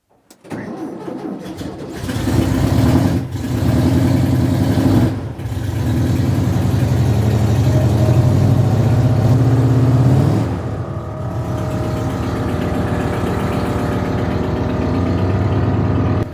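A small car's engine cranks and catches after a new fuel pump is fitted, then runs at a loud, steady idle with a brief dip before settling into a rough, even drone up close.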